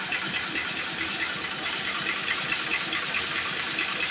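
A Fiat tractor engine runs at a steady idle, with a continuous throbbing, knocking diesel chug. It is close, fairly loud and even, with no talking over it.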